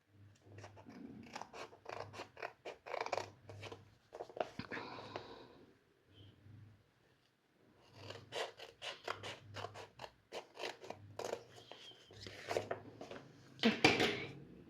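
Scissors snip through a sticker sheet in bursts of quick crisp cuts, close and clear, with short pauses between runs of snipping and no voice over them.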